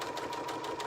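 A sewing machine runs steadily along a book pillow seam, its rapid needle strokes forming an even mechanical whir at close range with no voices.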